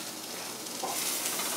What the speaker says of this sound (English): Just fast frying the flank steak.